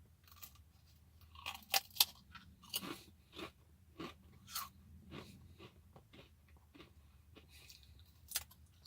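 Someone crunches Grippo's Carolina Classic Bar-B-Q potato chips close to the mic, with irregular crisp bites and chews spaced about every half second against a quiet background, with no talk.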